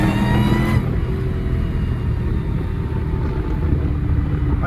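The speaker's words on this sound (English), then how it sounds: "This fucking car so loud." A Dodge Hellcat engine roars loudly and steadily, a deep sustained rumble heard close up with no voices over it.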